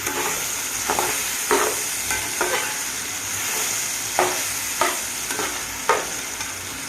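Vegetables and meal maker chunks sizzle in a hot pan for vegetable biryani, with a steady frying hiss and several distinct scraping strokes as the mix is stirred close up.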